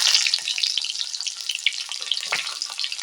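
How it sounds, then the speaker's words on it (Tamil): Small onions frying in hot oil give off a steady, loud, close sizzle with dense crackling and popping that holds unbroken throughout. "சிறிய வெங்காயத்தை போட்டுக்கிறோம்"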